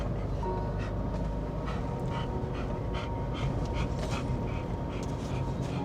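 A large, 95 lb dog with a serious heart condition pants rapidly and steadily close by, with quick rhythmic huffs over a constant low rumbling background.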